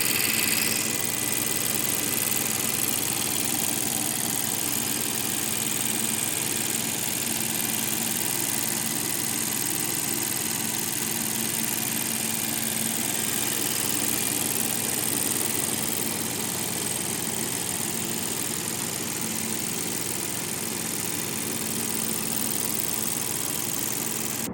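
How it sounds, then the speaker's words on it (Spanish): A 2024 Nissan Juke Ikon Edition's three-cylinder engine idles while the car sits parked, giving a steady, even drone that holds at a constant level for the whole stretch with no voices. "Ya habéis oído un poco este ralentí, está en parado por supuesto"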